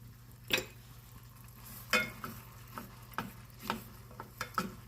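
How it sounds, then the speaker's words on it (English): A spoon stirs a strawberry plum frozen yogurt mixture with orange zest in a bowl, giving a string of sharp scraping clinks spaced about a second apart over a low steady hum. "Now I'm going to stir this."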